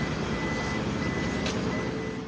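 A vehicle backing onto a RORO ferry at Siquijor Port, with faint, widely spaced reversing beeps under loud, steady engine and ship rumble.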